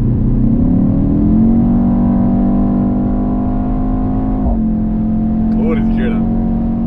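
A black BMW's engine hums in a steady, close drone whose pitch eases up and then steps down slightly. A voice briefly joins near the end.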